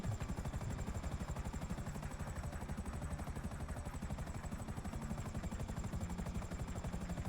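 Continuous rapid thudding of helicopter rotor blades with engine whine as a helicopter lands in GTA V, steady and loud, no talking.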